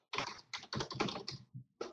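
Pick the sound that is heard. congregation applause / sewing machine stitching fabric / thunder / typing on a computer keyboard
typing on a computer keyboard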